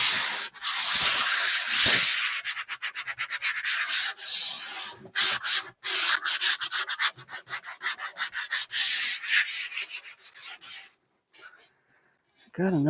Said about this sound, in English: Now this is just 100 grit sandpaper,